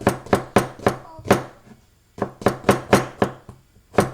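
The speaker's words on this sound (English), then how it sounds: "A little bit of onions, just cut it in half." A knife chops an onion on a cutting board in about a dozen sharp, close knocks: a quick run of strokes, a short pause, then another steady run.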